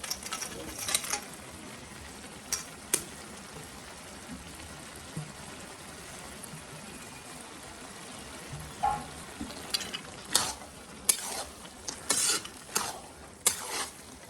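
Bottle gourd with lentil nuggets and egg fries and is stirred in a pan, a soft steady sizzle punctuated by sharp utensil scrapes and clinks that become frequent near the end.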